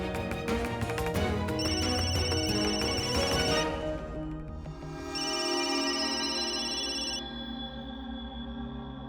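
A telephone rings with an incoming call, its electronic ringtone a repeating melodic pattern that plays loudly in two long bursts with a brief gap between, and no speech.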